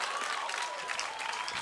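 A pickleball tournament crowd at the PPA Newport Beach showcase breaks into brief applause and murmuring reaction after a point, fairly faint and scattered.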